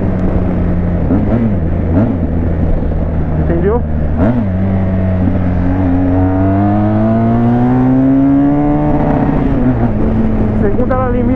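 A 2018 BMW R1200 motorcycle with a trimmed exhaust baffle idles and revs, its engine pitch rising and falling in several swells close by, while someone talks over it.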